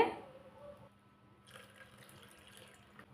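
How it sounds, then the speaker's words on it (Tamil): Ragi milk, made from finely ground finger millet, runs through a kitchen strainer with a soft, steady liquid trickle that starts louder and then fades to a faint pouring sound. "இப்போ ராகி பால் வந்து நம்ம வடிகட்டிக்கலாங்க"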